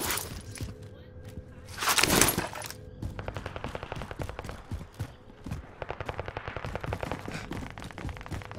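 Rapid automatic gunfire rattles in repeated bursts in a first-person shooter video game, with one louder blast near the start, moderately close and steady.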